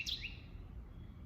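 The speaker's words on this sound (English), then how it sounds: "the birds are talking." A bird gives a brief, faint chirp outdoors at the start, then only quiet low background noise.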